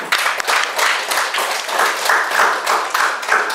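Students in a classroom clap together after a group presentation, a loud close burst of many hands with rhythmic, slightly uneven pulses that carry on steadily for a few seconds without speech.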